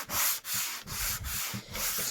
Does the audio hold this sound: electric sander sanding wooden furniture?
yes